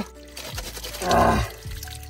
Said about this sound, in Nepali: अब चाहिँ म यहाँबाट पानी भरेर लिन्छु